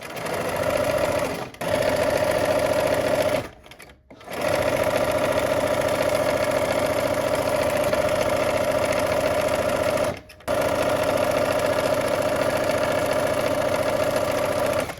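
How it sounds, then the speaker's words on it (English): A sewing machine stitches quilt pieces for a Sunday Picnic quilt in a steady, close mechanical whir, with two brief pauses between runs. "let's go ahead and sew"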